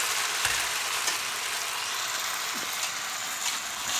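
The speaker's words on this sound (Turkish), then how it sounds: "Kızaran yağın üzerine eriştemizi bırakıyoruz." Steady hissing sizzle of homemade noodles frying in butter and olive oil in a pot, with a few faint clinks and stirring sounds, continuous and fairly quiet.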